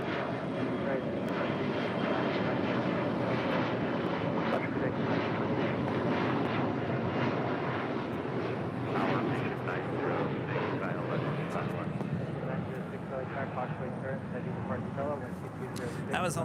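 Horizon Air Embraer E175 jet at LAX, its engines a sustained broadband roar that holds steady throughout, with a person talking over it.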